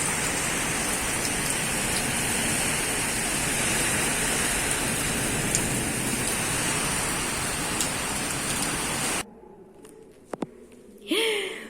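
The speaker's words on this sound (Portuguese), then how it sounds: "Meu Deus, muita chuva, né?" Heavy rain driven by strong wind under a fully overcast afternoon sky, a loud, dense, steady wash of noise for about nine seconds before it cuts to near quiet with faint scattered ticks and a brief rise at the end.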